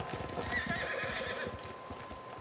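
A horse in Ghost of Tsushima trots with rhythmic clip-clop hoofbeats and lets out a whinnying neigh, fairly quiet, set against a faint steady background tone.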